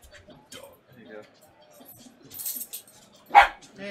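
A dog barks a few scattered times during a tabletop card game, with the sharpest bark near the end, mixed in with people talking and some clattering.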